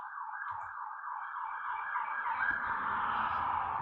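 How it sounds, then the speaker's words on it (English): Emergency sirens wail from outside, a steady rising and falling tone at moderate distance with faint traffic rumble beneath, no voices. "I don't know if you hear those sirens."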